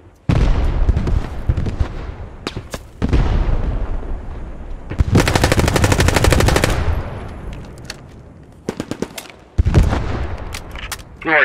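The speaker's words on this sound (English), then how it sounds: "They saw me, they're shooting this way." Heavy gunfire from enemy infantry in the video game Squad 44 on a North Africa desert map, with sustained loud machine-gun bursts and rapid rifle volleys in several stretches broken by short pauses, near and dense.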